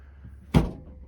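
A door on a converted school bus, freshly fitted with a reinstalled inner door seal, swings shut with a single solid thunk midway through, ringing briefly before fading over a low, quiet background.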